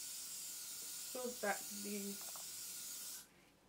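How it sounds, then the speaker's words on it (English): Gotta Be Glued hair spray hisses out of the can in one sustained close spray lasting about three seconds, with someone speaking briefly over it before it cuts off. "I'm going to spray that all over my hair"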